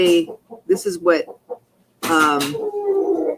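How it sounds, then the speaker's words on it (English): Chickens clucking and squawking nearby at a chicken sanctuary, mixed with a person speaking over them. "Sorry about the chickens."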